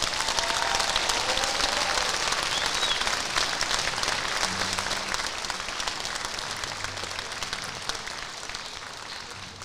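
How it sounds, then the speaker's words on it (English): An audience applauds steadily after a combined 8th to 12th grade school orchestra concert of string players, a dense sustained clapping that slowly fades slightly toward the end. "So can we give all these performers up here a round of applause?"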